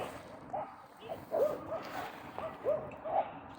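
Dogs scuffling at a dog park, with a handful of short, sharp yips and barks that come in quick bursts over a low background hum. The sounds are moderately close but fairly quiet.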